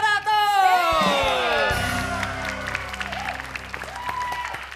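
A studio audience at a televised Indonesian game show bursts into applause and cheers, a loud crowd roar mixed with whoops and shouts over bright musical tones, the clapping thinning out as a voice speaks over it.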